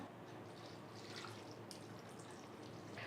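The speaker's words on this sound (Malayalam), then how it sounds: "ഇതിലോട്ട് കുറച്ച് വെള്ളം ഒഴിച്ചു കൊടുക്കുക" Water trickles and splashes steadily into a pot of pineapple kichadi being cooked, a soft continuous pouring sound with faint drips, no voices.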